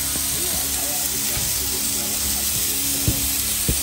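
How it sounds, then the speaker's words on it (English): Beef browning in a cast iron Dutch oven over campfire coals at a deer camp, with a steady close sizzle and hiss throughout, a few sharp pops and clinks near the end. "Browning the meat."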